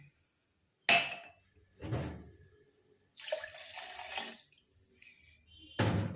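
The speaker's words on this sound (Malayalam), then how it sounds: "2 ഗ്ലാസ് വെള്ളമാണ് ഒഴിക്കുന്നത്" Water is poured from a glass into a lemon-and-milk drink in a home kitchen, in several separate splashing pours with short pauses between them, close and fairly loud.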